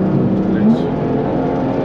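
A project car's engine roars steadily at full throttle in a hard run toward 180 km/h, a loud, continuous rumble with a rising whine that fills the scene, and a voice faintly under it.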